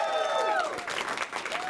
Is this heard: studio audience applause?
yes